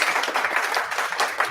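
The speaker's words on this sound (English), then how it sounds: "let's welcome her with a big round of applause" A lecture audience applauds a speaker introduced at a talk on making large language models safe and robust, with dense, steady clapping from a crowd that fills the whole short stretch without voices.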